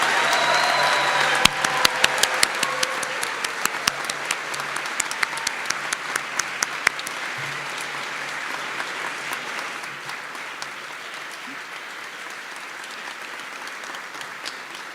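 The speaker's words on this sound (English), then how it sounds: "May we please have a round of applause for all of our new National Honor Society members." An audience claps for new National Honor Society members at a high school induction ceremony, loud dense applause at first that slowly thins into scattered claps over about fifteen seconds, with no voices over it.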